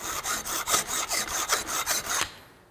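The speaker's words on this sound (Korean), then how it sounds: "눌러서 갈렸던 부분에 구멍을 다시 이렇게 확장하면서 뚫어 보겠습니다." Reamer enlarging a hole in copper tube, a close, steady rasping scrape repeating in about ten even strokes before stopping and fading out.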